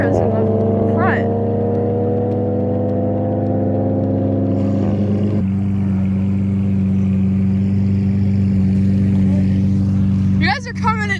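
A Toyota Supra and a Porsche GT3 drag race on an airstrip, with a loud steady engine drone and a sustained mid-pitched tone that shift as the cars pass. The noise fades briefly near the end.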